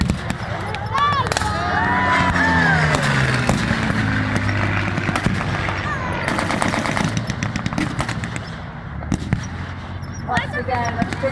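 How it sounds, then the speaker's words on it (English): Pyrotechnic blasts and rapid bursts of gunfire crackle at a WW2 re-enactment during a Spitfire attack on German troops. A loud announcer's voice and a droning engine run underneath, with the bangs clustered mid-way and near the end. "Once again, the Spitfire drops fire onto the German troops."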